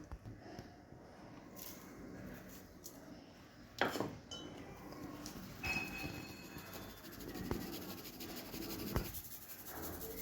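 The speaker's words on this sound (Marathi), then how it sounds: "याला आता आपण चाळून घेणार आहोत" Finely ground sabudana flour being sieved, a quiet, continuous soft scratching and rubbing with a few faint clinks, close by and low in level.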